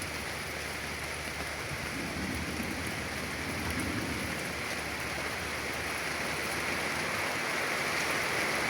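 Heavy rain pours down in Gazipur as a steady, dense hiss of falling water that stays constant and loud throughout, with no talk.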